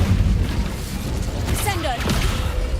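An Incendio fire spell goes off in Hogwarts Legacy with a roaring, rumbling whoosh of flame that swells over a booming game background, and a brief voice cuts in near the middle.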